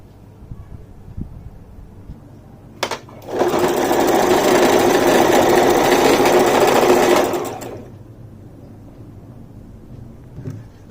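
A sewing machine stitches the waistband casing of a cut plazo pant in one loud, continuous burst of about four seconds, with quieter handling sounds before and after.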